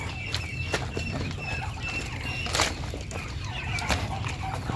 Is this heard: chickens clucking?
yes